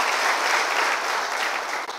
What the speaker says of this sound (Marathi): आज जोशी सरांसाठी आपण सर्वांनी टाळ्या वाजवलं पाहिजेत.